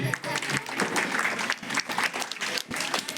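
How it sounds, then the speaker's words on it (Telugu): An audience claps in thanks to Chief Minister Nara Chandrababu Naidu at a public gathering. The uneven applause rises and dips, and voices are heard under it. "ప్రీతమ ముఖ్యమంత్రులు నారా చంద్రబాబు నాయుడు గారికి అందరూ కూడా చప్పట్లతో ధన్యవాదాలు తెలియజేయండి."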